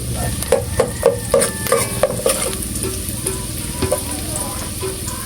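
Onions and garlic sautéing in oil previously used for frying chicken, a steady loud sizzle with repeated stirring scrapes and clinks of a utensil against the pan, close up and with no talking.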